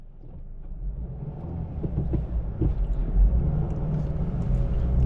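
A 2023 Subaru Crosstrek Premium with a six-speed manual transmission pulls away from a dealership, steady engine and road rumble building gradually, with a few light knocks and no talk.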